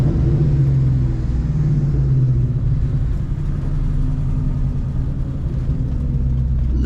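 A Terminator Cobra sports car engine rumbles steadily up close, a deep continuous drone with a slight rise in pitch as it picks up speed.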